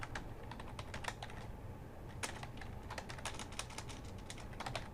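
Steady clicking of keys on a computer keyboard as a form title is typed, quick uneven taps in short runs over a constant hum of background noise, moderately close.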